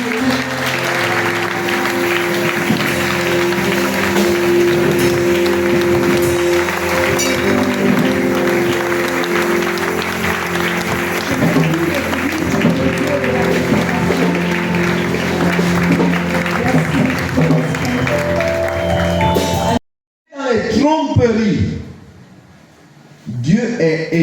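A church congregation breaks into loud, sustained applause and acclaim for God, a dense crowd roar that holds steady for about twenty seconds, then cuts to a brief pause followed by a preacher speaking.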